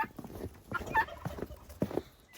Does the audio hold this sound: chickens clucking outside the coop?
yes